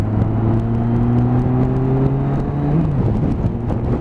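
A Nissan GT-R with variable valve timing accelerating hard from inside the cabin, a loud rising engine note that climbs steadily, then drops briefly at a gear change before pulling again, with no voices.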